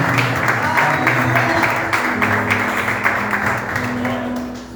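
A church congregation applauds during a worship service, giving sustained, even clapping over a sung or spoken voice and musical tones, fading a little toward the end.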